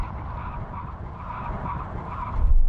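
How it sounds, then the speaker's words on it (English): Mercedes-AMG G63 tires skidding under a full emergency stop from 70 mph on a runway, a steady broad screech with engine and road rumble that swells louder near the end. "Full emergency stop from 70 miles an hour when we hit the line across the runway."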